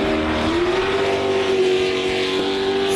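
A 1,400-horsepower methanol-fuelled V8 superboat racing engine roars loudly and steadily, its pitch climbing as it revs during qualifying in South Australia.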